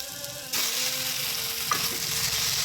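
Onions, garlic, ginger and tomato sautéing in a pan, a loud steady sizzle and frying hiss that jumps up as ingredients hit the oil, with faint stirring scrapes and no talk.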